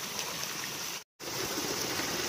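Ogi waterfall in Angul pours with a dense, steady rush of flowing water, loud and close, broken by a split-second dropout midway; no voices are heard.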